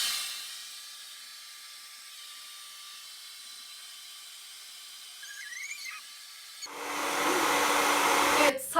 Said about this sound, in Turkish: saçları kuruttum ve geldim.